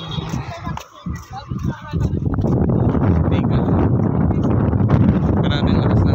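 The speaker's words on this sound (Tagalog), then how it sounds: "Grabe ang lakas ng hangin." Strong wind buffets the microphone outdoors at Cape Bojeador in Ilocos Norte, a loud continuous roaring rumble that takes over after a couple of seconds of someone talking.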